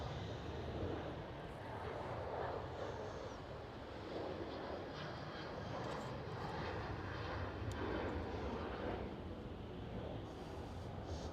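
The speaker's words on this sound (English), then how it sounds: "While KLM 737 rotates." A KLM Boeing 737 jet takes off at Amsterdam Schiphol, its engines giving a steady, loud broadband roar that holds throughout, with light wind noise.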